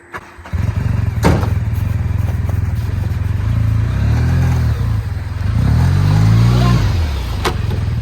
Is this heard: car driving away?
yes